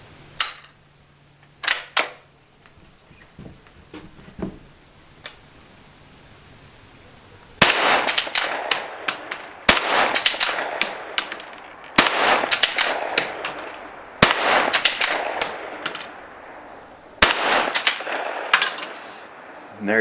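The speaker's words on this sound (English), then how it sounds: "I'm going to do some rapid fire here, working a bolt, and just kind of show you how easy this thing is to work." Savage Model 93 .17HMR bolt-action rifle fired rapidly at steel plates: five sharp, loud cracks with metallic rings, spaced about two to three seconds apart, with bolt clatter between shots, following some quieter handling clicks.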